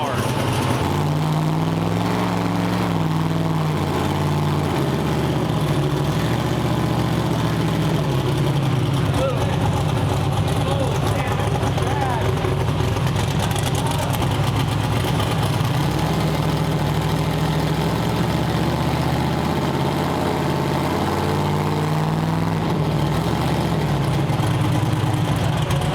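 A twin-turbo 427 engine running on a dyno holds a steady, loud, low rumbling drone for the full stretch, with faint voices under it.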